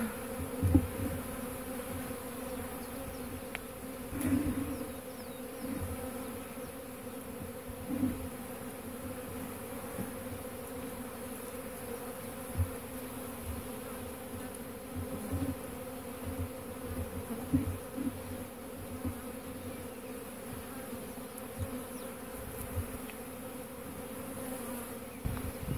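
A steady, low insect hum fills the air, with the drone of many honeybees around a hive swelling and dipping, individual buzzes passing close now and then.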